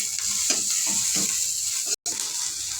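Finely chopped tomato and onion sauté in a hot pan for shev bhaji, a steady close sizzle broken by bursts of spoon stirring and scraping, with one brief dropout near the end.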